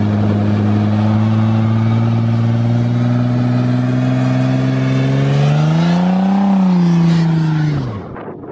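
A Nissan G35's engine runs loud and close, holding a steady hum, then climbs in a rising rev, peaks, and drops off as it winds down near the end, with no talking.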